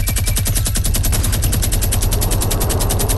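Fortnite minigun unloading in a rapid, unbroken stream of loud close-range shots, a relentless rattling burst with no talk.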